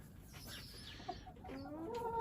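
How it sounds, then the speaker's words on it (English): Chickens cluck softly at a farmyard coop, with a rooster among them, the calls sounding close over steady low outdoor noise. "Got some chickens."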